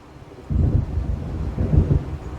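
Thunder of a coming storm in the video game Alan Wake, a deep loud rumble that rolls in abruptly after a quiet start and swells again before easing, with no talk.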